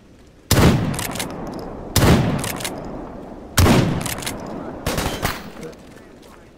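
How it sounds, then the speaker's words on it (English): Gunfire in a zone survival video game: four loud, sharp shot bursts spaced about a second and a half apart, each with a ringing decay, and a fifth beginning at the very end. "Why did none of those shots hit him?"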